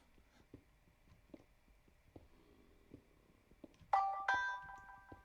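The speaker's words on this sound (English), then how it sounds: "And my phone dinged." Phone notification ding: a short, bright electronic chime of two quick tones, heard faintly over quiet background ambience.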